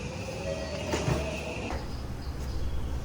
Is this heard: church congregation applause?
no